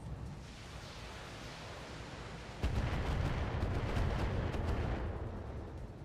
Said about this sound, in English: Couple missiles here and there.